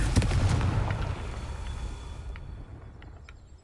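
Confringo blasting spell explosion in the video game Hogwarts Legacy: a loud, close burst with a rumbling tail that fades over a few seconds, followed by faint pops.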